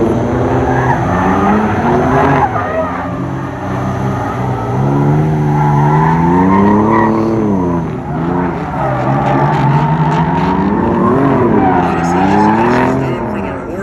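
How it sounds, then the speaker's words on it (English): A 3000GT drift car on a qualifying lap at a drift competition, its engine rising and falling loudly through shifts with tires skidding, heard steadily close up throughout, with some voices mixed in. "Your world's first qualifying lap here, 3000 GT, Mike DeFusco."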